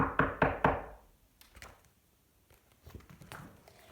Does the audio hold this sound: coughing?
no